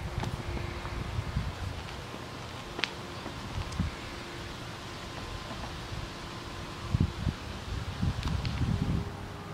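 Wind stirring through a forest of trees and flowering apple branches, a steady soft rustle of leaves with a few louder gusts near the start and toward the end, fairly quiet and without voices.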